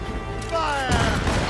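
A cannon volley slams into a sailing ship in Assassin's Creed Rogue, and a heavy crash and rumble cut in partway through, close and loud, with a raised voice shouting just before it.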